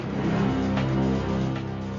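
A black motorbike's engine revs on a street at night, a steady mid-pitched drone that swells and pulls across two seconds, fairly close and unaccompanied by speech.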